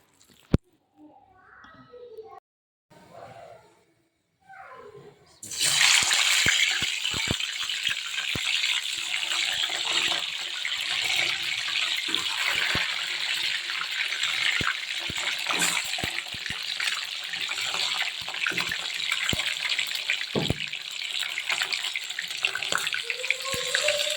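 Tap water running steadily and loudly into a sink or basin while clothes are washed, starting after a few seconds of quiet handling and continuing with splashing and rattles throughout.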